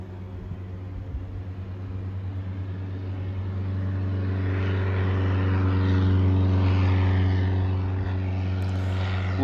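A Cub Crafters FX3 airplane with a fuel-injected Lycoming 363 engine climbs out after takeoff, giving a steady droning propeller and engine hum that holds at a constant pitch and swells slightly as power builds, heard from inside the aircraft.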